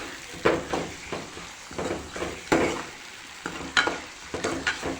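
Chana dal frying in oil crackles and sizzles steadily in a pan, with a series of close stirring scrapes rising over the hiss every half second or so.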